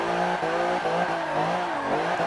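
Alfa Romeo Giulia Quadrifoglio in Forza 7 bouncing off its rev limiter: a loud, sustained engine drone that repeatedly stutters and dips as the limiter cuts in, heard from the interior view.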